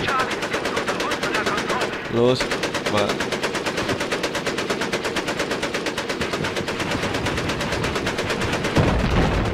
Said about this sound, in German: Wenn sich das Geräusch von der Falcon MG.